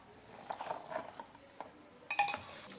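Cooked legumes from a pressure cooker being spooned into a kitchen vessel, with soft scraping, stirring and a few metal clinks of utensil on pot, the sharpest clinks coming near the end.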